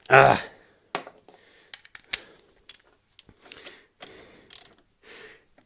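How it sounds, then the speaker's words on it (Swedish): A wrench tightening a 13 mm nut on the power steering pump of a Volvo 940 engine, giving a run of irregular metallic clicks and ratchet ticks, close up and fairly quiet, with no speech. "Dra åt här, den här muttern."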